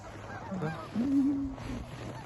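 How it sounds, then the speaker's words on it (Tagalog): A single honking call rises out of an open-air outdoor scene where ducks gather in large numbers, loud and fairly close for about half a second, with softer, faint bird calls and background noise around it. "Manghuli tayo ng mga itik"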